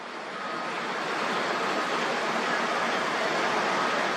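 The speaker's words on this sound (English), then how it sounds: "the sand and water coming out there. It's slowing down, and it's really thick" Thick sand and water gushing steadily out of a ship's hull, a dense continuous roar like surf that swells in over the first half second and then holds loud and even, with no voices.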